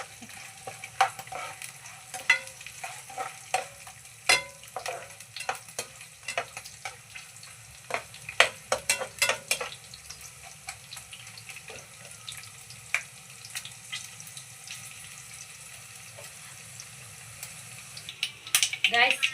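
Green chillies and peanuts frying in a pan for pulihora, a low crackling sizzle with dense bursts of spatula scrapes and taps, busier early and late, close and moderate.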